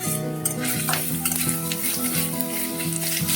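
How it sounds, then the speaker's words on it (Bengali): Ginger paste and sugar fry in a pan for hariyali chicken, sizzling close and steadily while a utensil scrapes and stirs in repeated rhythmic strokes. "আমি আদাটা একটু কষিয়ে নিচ্ছি।"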